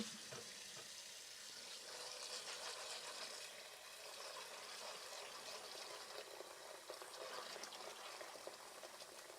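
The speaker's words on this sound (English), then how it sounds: "Just giving these guys a quick rinse." Ingredients being rinsed under a running tap, a continuous faint splashing rush of water that stays steady throughout, close by with no voices.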